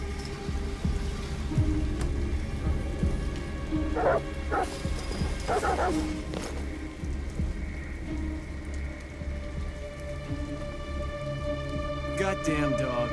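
Dogs bark repeatedly in short bursts at a distance in Detroit Become Human, heard over steady rain and a dull background hum while voices talk.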